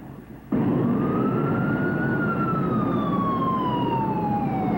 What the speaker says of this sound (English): Red lights and sirens.